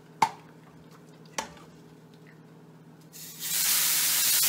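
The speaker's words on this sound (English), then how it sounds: "And now it's just a matter of adding the stock." Turkey stock poured into a hot roux erupts into a loud, steady sizzling hiss after two sharp utensil clinks against the pot in a quiet kitchen.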